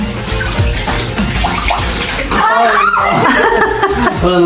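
Water is poured over a dog during its bath, splashing and running steadily and loud, while people laugh and talk over it.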